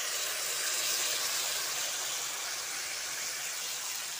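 Potato and raw banana frying in a pan with ground coriander, turmeric and chilli powder, a steady close sizzling hiss that holds for the whole stretch without a break.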